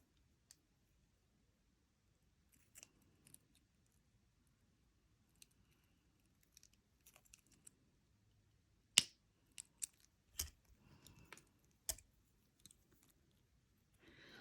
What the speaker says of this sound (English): and then I'm going to cut off the excess